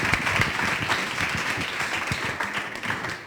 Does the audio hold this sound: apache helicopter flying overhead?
no